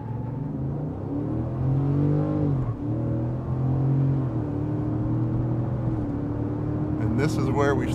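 Tuned 2021 Ford F150 pickups, a 5.0 Coyote against a 6.2, accelerate hard in a side-by-side race, heard as a steady, loud engine drone whose pitch climbs and dips through gear changes.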